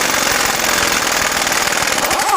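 An impact wrench hammers continuously at close range on the crank pulley of a GM 6.2L L87 engine during a teardown, a loud rapid rattling burst with no pauses.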